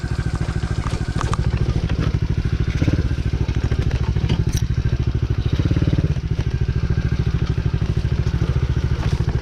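A DB14 dirt bike engine drones loud and close under steady throttle, a continuous buzzing roar with a few brief surges and clattering thumps, with no talk over it.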